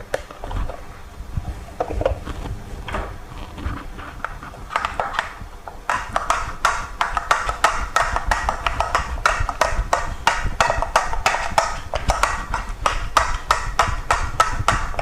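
Rapid, repeated knocking and scraping of a masher against a pot while mashing potatoes, growing louder and steadier partway through, with vigorous rhythmic strokes.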